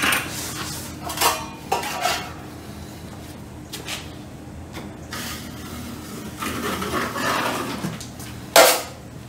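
A drywall mud pan and 12-inch taping knife handled while skim coating a wall, giving scattered metallic clanks, scrapes and taps at irregular intervals, close and fairly loud, with one sharper clang near the end and no talk.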